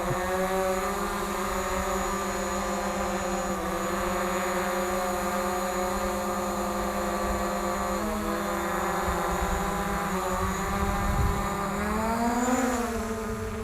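A Hubsan Zino Pro drone takes off and climbs, its steady high-pitched motor whine droning continuously and fairly close, with the pitch bending slightly as it rises.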